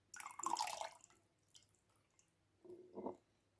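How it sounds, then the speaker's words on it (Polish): Water is poured off into a container in a few short splashing bursts with quiet gaps between, soft and close. "I potem trochę tej wody odlewamy do tego, tego tutaj."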